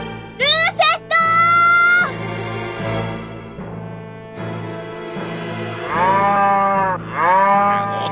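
A cow moos in an anime, with drawn-out lowing calls under music and sound effects, including a higher bellow near the start and two long moos toward the end.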